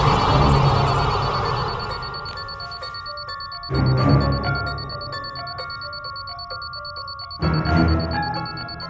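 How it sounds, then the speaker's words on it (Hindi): An electronic alarm clock sound chimes from a phone in repeating bursts, a bright beeping melody that swells loudly three times and rings on between them. "अलार्म क्लॉक की आवाज फोन में?"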